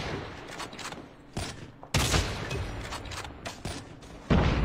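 A frag grenade in Call of Duty Mobile bursts with a loud, sudden blast amid ongoing gunfire, followed by another heavy boom near the end.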